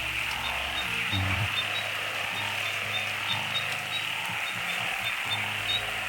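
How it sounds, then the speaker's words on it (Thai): A dense, steady chorus of narrow-mouthed toads in a rice field during heavy rain, with low droning calls pulsing over a constant bright hiss and no talking. "เสียงอึ่งนะ"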